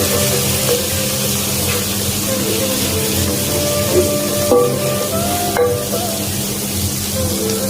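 A spinach and lentil mix with chili powder is stirred while frying, producing a loud, steady sizzle with a few distinct metallic clinks and scrapes of the spoon against the pan.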